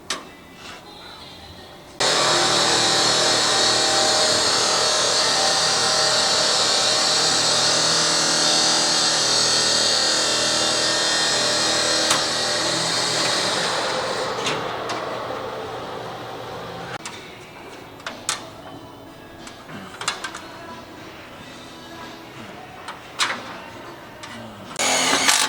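A steady, loud mechanical whir of a powered cutter runs alone for about twelve seconds while brake line is cut on a 1937 Lincoln Zephyr, then fades into scattered clinks and handling noises.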